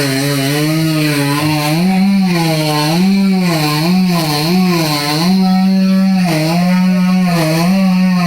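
A chainsaw cutting a tree, its engine loud and close, whining steadily while the pitch wavers up and down as the throttle and load shift, running without pause for the whole stretch.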